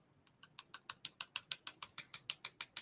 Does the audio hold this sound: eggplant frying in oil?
no